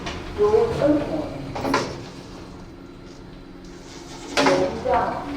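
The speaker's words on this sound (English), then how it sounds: "Second floor. Doors opening." Lift doors in a shopping centre lift at Stratford City slide open with soft mechanical rumbles. A recorded voice announcement is heard close by before and after the doors move.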